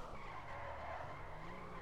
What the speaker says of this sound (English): Oh, that's a nice drift.